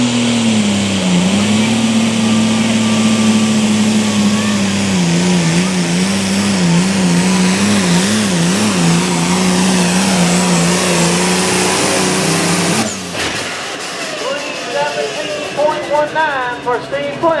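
A pulling truck or tractor with 75-pound front weights at a South Boston, Virginia pull revs its engine in a loud, sustained drone that wavers in pitch, then cuts abruptly, leaving a fainter, uneven engine rumble under announcer talk.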